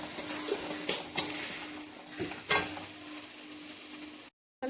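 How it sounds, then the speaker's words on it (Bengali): Chilli-powder spice masala being stir-fried for a fish dish, a soft sizzle under a few sharp spatula scrapes and taps against the pan, fairly quiet and close, cutting off abruptly at the end. "লঙ্কা পাউডার, এখন ভালো করে কষিয়ে নেব।"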